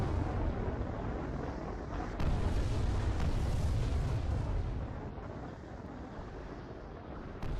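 Heavy weapons fire from combat ships in Halo Reach, heard as a dense, continuous rumble of booming cannon and artillery blasts with sustained low roar throughout, no voices.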